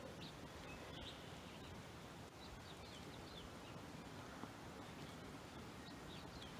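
Birds chirp and call faintly in the distance outdoors in quiet nature, with light snow falling, scattered short tweets over a steady soft background hiss with no talking.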